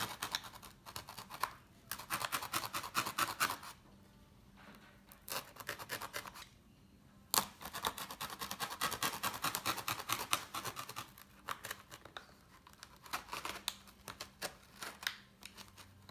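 Foam being cut by hand with a blade, going around several times: rapid scratchy rasping strokes in bursts, separated by brief pauses, close and fairly quiet.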